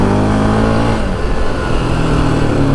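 Yamaha Raptor 700 ATV engine revving steadily in desert terrain, a loud continuous motor roar holding near-constant pitch, close and alone without voices.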